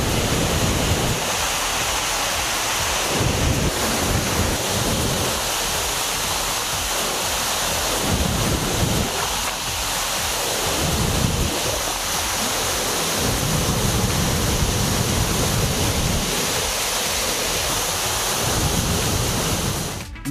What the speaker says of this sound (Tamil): கவியருவியில் வெள்ளப்பெருக்கு ஏற்பட்டுள்ளது